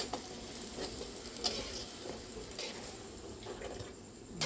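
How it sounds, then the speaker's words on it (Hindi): Puris deep-frying in oil, a faint bubbling sizzle with occasional soft splashes and stirring, close and low in level, no voices. "देख सकते हो आप लोग पूरी बन रही है"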